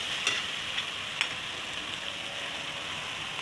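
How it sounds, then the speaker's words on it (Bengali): Onion paste fries in a pan with a steady, close sizzle, broken by a couple of faint scraping stirs, no voices. "এখন আমি নেড়ে চেড়ে যে মিশিয়ে নিচ্ছি, একটু কষিয়ে নেব"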